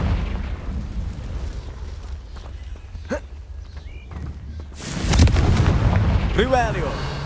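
Confringo fire spell explosions in Hogwarts Legacy, with a quiet stretch of faint thuds, then a loud, rumbling blast that swells and lingers, with brief voices heard around it.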